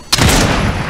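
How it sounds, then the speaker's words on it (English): Gunfire in a video game, a sharp loud shot onset followed by sustained dense rattling bursts that fill the whole second. "He's shooting at somebody else."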